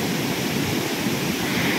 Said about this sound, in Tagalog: Umaapaw kasi yung tubig dito